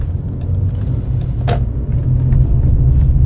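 Car on an exam route in Vinnytsia accelerating and moving up a gear, heard as a steady low engine rumble from inside the cabin with a brief click partway through and no talking.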